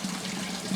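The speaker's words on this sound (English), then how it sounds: "You can hear the sound of the slurping water and all the rest of that." Water slurps and gurgles through the PVC pipe of a fish tank filter, a steady close wash of liquid noise running alone for under a second.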